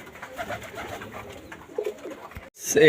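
Pigeons coo and call in a breeding and flying loft, a steady soft murmur of several birds through most of the stretch, then a brief lull before a louder, closer burst of bird sound at the end.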